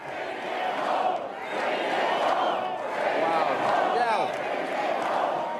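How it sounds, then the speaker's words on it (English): Political rally crowd cheering outdoors, a loud, sustained roar of many voices in waves, with scattered whoops and shouts rising above the din. "Look at this crowd, incredible."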